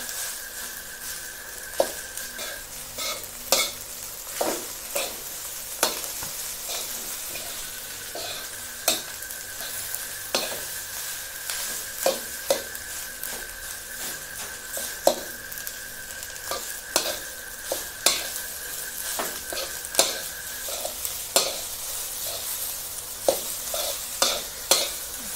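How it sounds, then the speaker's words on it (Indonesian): Nasi goreng fried rice with spices and sambal being stirred in a pan, a spatula scraping and knocking in a steady irregular rhythm over a continuous soft sizzle, close and alone. "Kacau nasinya biar rata, bumbunya, sambalnya biar rata"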